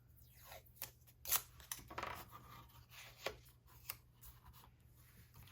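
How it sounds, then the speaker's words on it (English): A die cut machine rolls a greeting card with taped-on edge dies through its plates, giving faint, close scraping and crunching bursts with sharp clicks in an uneven rhythm, alone without talk. "run it through the die cut machine"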